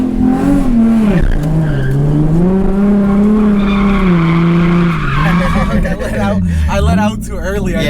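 Car drifting with tires squealing loudly and continuously, the pitch sliding as it slides, with engine noise underneath and people talking over it.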